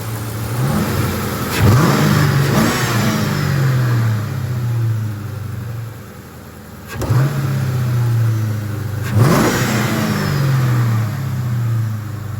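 A car engine with its stock intake, before a cold air intake goes on, revs up repeatedly from idle in loud, close bursts, each climbing and falling back with a steady idle between.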